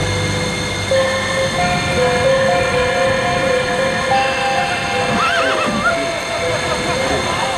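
A laden horse crossing a windswept mountain gorge on a trade route neighs in a loud, high whinny rising over a busy background with other tonal sounds and a voice talking.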